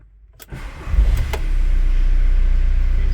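VW T4 Transporter camper van diesel engine being cranked and catching after a fuel filter change, a brief starter whirr settling into a steady, loud, close idle.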